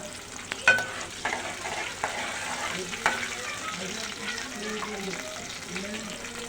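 Green chilli, garlic and mustard seeds fry in oil over low gas flame, a continuous close sizzle and crackle broken by a few sharp utensil clinks and stirring sounds.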